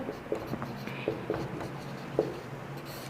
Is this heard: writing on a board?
yes